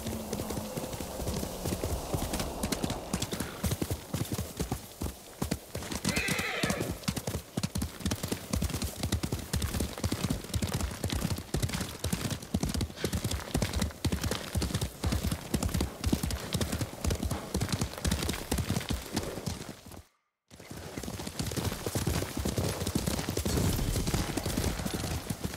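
Horse hooves galloping steadily in the video game Ghost of Tsushima, a continuous fast clip-clop rhythm close by that runs almost the whole time with one brief break.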